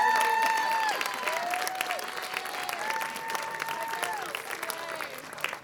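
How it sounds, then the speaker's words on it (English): Graduation crowd clapping for parents and guardians, a fairly distant and moderate wash of applause with voices calling out over it and a whistle-like tone early on. "give a huge round of applause to your parents"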